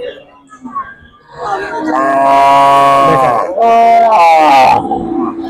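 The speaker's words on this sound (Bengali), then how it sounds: "একটি হাড্ডি নাইরা গাই গরু দেখাচ্ছি" A naira breed cow at a cattle market gives a long, loud moo, then a second drawn-out low call, close by, with faint background voices before it.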